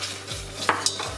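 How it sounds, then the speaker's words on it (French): Metal whisk stirring flour into melted vegan butter in a saucepan, with short scraping strokes and a couple of sharp clinks against the pan over a faint background hum. "on va vite tourner avec le fouet pour que le beurre absorbe la farine"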